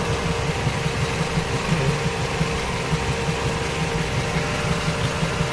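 A small-bodied car, with an engine said to cut out, idles with a steady low rumble and a faint vibrating hum that stays even and quiet throughout.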